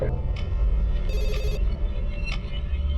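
A police station telephone rings in a short trilling burst over a low steady hum of background noise.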